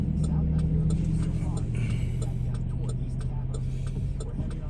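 A car passes by on the road, heard from inside a moving vehicle as a steady engine and road rumble under ongoing conversation, with faint ticking throughout.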